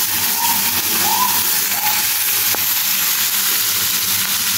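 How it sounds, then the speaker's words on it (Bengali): Fish sizzles lightly in a small amount of hot oil in a home kitchen, giving a steady close hiss with a few faint pops, and no talking. "এরকম করেই ভাজা দেবো হালকা একটু।"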